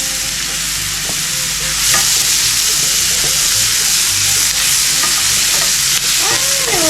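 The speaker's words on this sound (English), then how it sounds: "And we'll let that saute for a smidgen" Food sautéing in a pan ahead of adding ground beef, a steady close sizzle and frying crackle with occasional stirring scrapes, continuous throughout.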